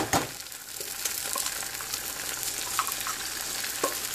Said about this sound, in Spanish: Voy a poner tres huevos.